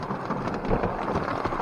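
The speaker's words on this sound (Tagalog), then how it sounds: "Pero malakas talaga ang ulan." Steady, dense rain pouring down on a beach campsite with an awning, a continuous loud hiss of drops with low rumbling underneath, no voices.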